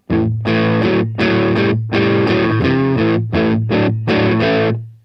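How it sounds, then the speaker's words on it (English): Crunchy, overdriven electric guitar through the clean channel of a Marshall Valvestate 8080 amplifier strums rhythmic chord bursts over a steady low note, loud and close, finishing on a held chord. "this crunch sound on the clean channel"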